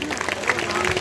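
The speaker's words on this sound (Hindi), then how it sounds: "जोरदार तालियां हो" Brief, dense applause from an audience at a Shrimad Bhagwat Katha devotional gathering, with a voice speaking over the clapping.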